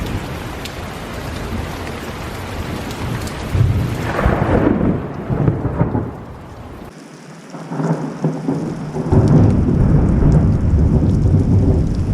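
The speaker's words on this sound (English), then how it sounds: "Oh, it sounds like a big storm." Heavy thunder rumbles through a big thunderstorm over the Icefields Parkway, with steady rain pattering on surfaces throughout; a loud, drawn-out roll swells midway and fades into continuing rainfall.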